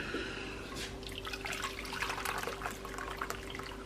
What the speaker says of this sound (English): And now I'm going to pour, I boiled some water, cup and a half of it.